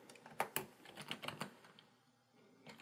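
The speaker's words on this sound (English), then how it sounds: "on it we will type Hugo" A burst of computer keyboard typing as a text layer is entered, with quick irregular keystrokes clustered early, a pause of quieter background, then a few more taps at the end, all fairly faint and close.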